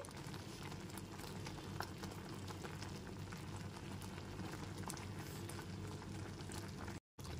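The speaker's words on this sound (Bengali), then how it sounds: "গ্যাসের ফ্লেমটা মিডিয়ামে রেখে চিনির রসটা 5 থেকে 6 মিনিট ধরে আর একটুখানি জাল করে নেব" Sugar syrup for a sweet-sour mango pickle simmers in a pan over a medium flame, a steady close bubbling and popping that continues evenly with no voices.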